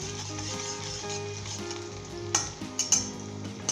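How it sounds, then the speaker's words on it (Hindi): Green chillies and ginger frying in hot oil for a cabbage curry, a steady continuous sizzle with a few sharper crackles and light stirring clinks toward the end, no voices. "सब्ज़ मिर्चें हम ऑयल में पहले डाल रहे हैं इसलिए कि ताकि ऑयल के अंदर इसका जो तीखापन है"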